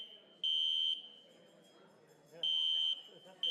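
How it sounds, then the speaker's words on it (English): A fire alarm going off at a wedding gives loud, steady electronic beeps in short bursts, three separated by pauses, with a quiet room behind them. "Really necessary for you to let the fire alarm off?"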